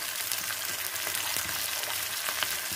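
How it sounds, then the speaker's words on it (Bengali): Beans frying in a pan for village-style fried rice, a steady close sizzle running throughout with occasional soft stirring scrapes and no voices. "এবার বিনসটাকে ভেজে নিচ্ছি।"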